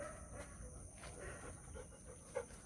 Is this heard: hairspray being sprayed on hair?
no